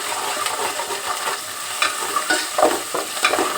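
Onions frying in a pan for chicken mandi, cooked only to medium rather than browned, sizzling steadily up close while a spatula stirs and scrapes through them in repeated strokes, without any voices.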